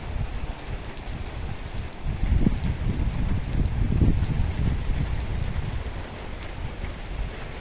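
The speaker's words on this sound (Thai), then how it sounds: "เนี่ยเป็นฝนแล้วนะครับตอนนี้เนี่ยฝนเริ่มตกแล้วนะครับ" Steady rain falling with a broad hiss and dense patter of drops, a gusty rumble underneath, continuous throughout with no voices.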